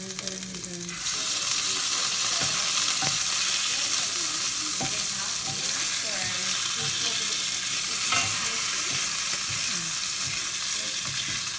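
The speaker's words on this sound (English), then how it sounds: "So you've got garlic and olive oil in the pan." Garlic sizzles in hot olive oil in a pan, starting after a brief quiet moment and then frying steadily and loudly with occasional stirring scrapes and light clinks throughout.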